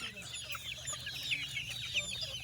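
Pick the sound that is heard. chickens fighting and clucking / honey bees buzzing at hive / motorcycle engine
chickens fighting and clucking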